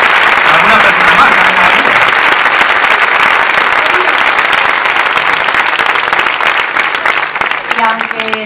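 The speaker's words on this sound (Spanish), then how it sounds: "quiero que demos un gran aplauso a los camaradas que vienen de Francia, de Portugal" A crowd at a Falange Española rally gives sustained, loud applause to comrades from France and Portugal, dense clapping filling the whole stretch and thinning slightly near the end.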